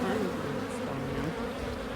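A dense swarm of honeybees buzzes loudly and continuously at close range during a spring hive inspection, balling an intruding hornet.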